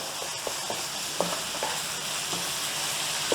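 Onions and garlic frying in a pan for Philly cheesesteaks, a steady broadband sizzle with a few light stirring scrapes and taps over it, close and continuous without talk.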